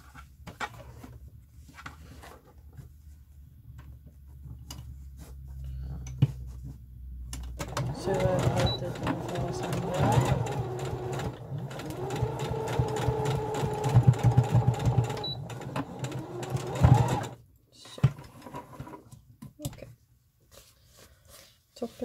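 Sewing machine stitching a corset: a steady, fast mechanical whirring run of about ten seconds, preceded by quieter handling noises, with a person talking before and around the stitching.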